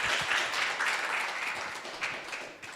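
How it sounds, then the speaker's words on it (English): Children in an audience at a kids' scripture presentation give a short round of applause, fairly faint and distant, steady then tapering off. "Got some good applause there."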